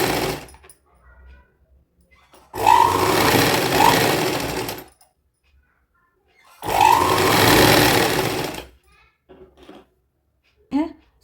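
A sewing machine stitches a fabric strip for a small girl's midi dress, running in two steady, loud bursts of about two seconds each, separated by quiet pauses, with brief faint sounds at the edges.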